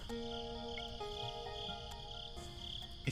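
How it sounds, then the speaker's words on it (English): Crickets chirping at night, a faint steady trill layered with sustained tones in a quiet outdoor ambience, with a soft click or two near the end. "crickets are chirping"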